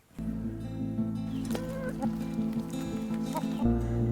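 About 28 chickens inside a chicken tractor, cluttered overlapping clucks and short calls over a steady low mechanical hum, close and moderately loud throughout.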